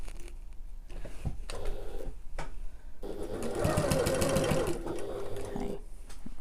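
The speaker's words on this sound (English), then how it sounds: "I'm going to back stitch at the start and the end." A domestic sewing machine runs in short bursts, then a longer steady stitching run, as it back stitches the handle seam of a backpack sewn at regular stitch length; close and alone, with no talk.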